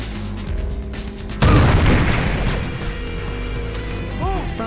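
Grenade explosions in the stealth game Splinter Cell, one loud close boom with crashing debris bursting out of game noise and fading into a rumbling tail.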